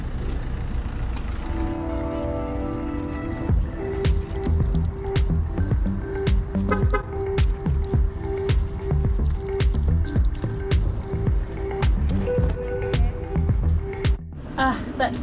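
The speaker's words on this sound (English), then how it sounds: "So I'm having a shower." A shower runs inside a van with water spraying and dripping in an uneven splatter, broken by squishing and splashing as someone moves under it, and a thin sustained tone runs through much of the spray.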